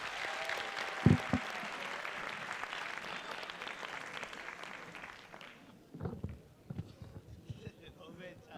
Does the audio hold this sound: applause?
yes